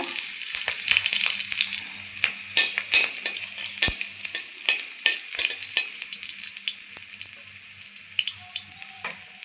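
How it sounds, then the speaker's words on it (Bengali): Green chilies frying in mustard oil in a wok give a steady, close sizzle with frequent sharp spatter pops and occasional clinks of a utensil against the metal. "কাঁচা লঙ্কা ভেজে নিয়েছি"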